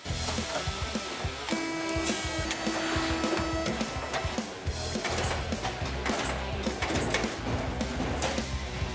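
Aluminium Rimowa Topas suitcase corners being coined in a factory press, a steady loud industrial clatter and hum with repeated metallic thumps and ringing tones throughout.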